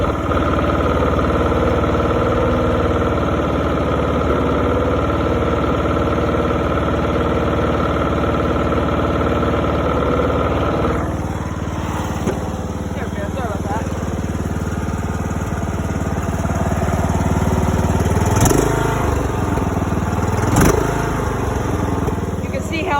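A small John Deere lawn tractor engine runs steadily throughout, loud and close, with a rise in revving partway through and a couple of sharp clanks near the end.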